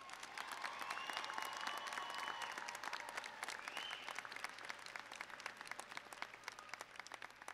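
Applause for graduates' families at a Department of Corrections graduation ceremony: a large crowd claps steadily and fairly far from the microphone, with scattered sharper claps, faint whistles and a soft, continuous hum underneath.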